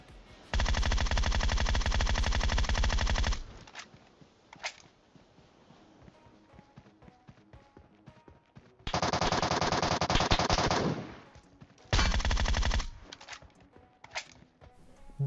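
Automatic gunfire in the PUBG Mobile battle game hammers out in long sustained bursts, with gaps between them and a couple of shorter volleys. Each burst is loud and close, and faint clicks fill the pauses.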